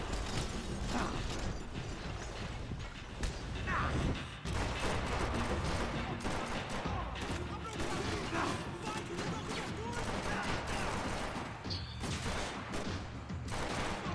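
Rapid video game gunfire crackles nearly nonstop, dense bursts layered over game effects and clicking mechanisms, with people talking throughout.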